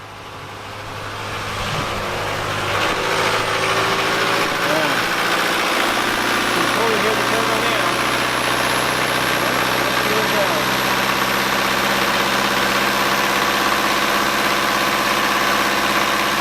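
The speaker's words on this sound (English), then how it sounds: "You can hear the turbo whine, so we know the turbo's working." A diesel engine with a newly replaced turbo and elbow revs up and holds at about 2,000 rpm, a steady loud drone with a rising high turbo whine riding over it, close by and running continuously.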